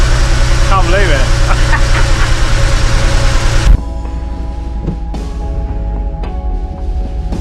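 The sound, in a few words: vehicle engine started for the first time, idling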